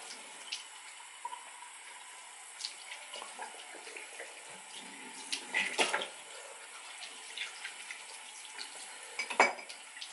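Water runs from a tap while something is rinsed off, with intermittent splashes and light clinks of dishes or utensils against a faint steady background.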